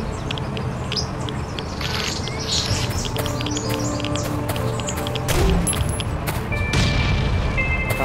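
Grenade launcher shots and blasts aimed at a tank in the survival game Last Island of Survival, with repeated sharp booms and crackling impacts over a steady background din and chirpy game ambience.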